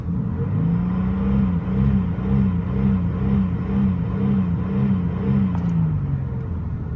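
Engine of a 1995 Buick LeSabre surging at high RPM while parked, a steady, loud hum with a rhythmic wavering pulse as the revs hunt up and down, with no talking.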